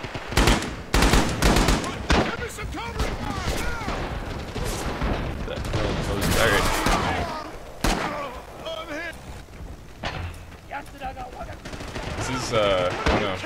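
Dense battle gunfire from the WWII shooter Red Orchestra 2 on Betio: rapid rifle and machine-gun bursts crack close and far over continuous combat noise, with voices shouting over the fire.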